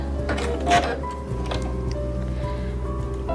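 A Singer Quantum Stylist 9960 sewing machine stitches through fabric in a short burst with faint mechanical ticks and clicks, fairly quiet and close.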